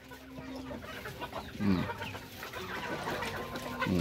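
Darag native chickens clucking while being fed, with soft scattered clucks and a few louder, sharper calls up close in a quiet farmyard.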